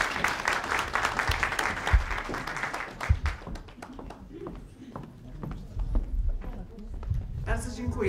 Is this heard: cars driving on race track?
no